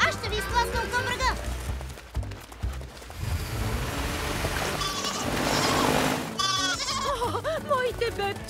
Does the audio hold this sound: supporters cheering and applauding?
no